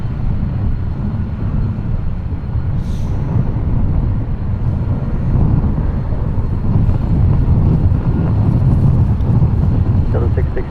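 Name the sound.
Lufthansa Retro Boeing 747-8I airliner approaching the airport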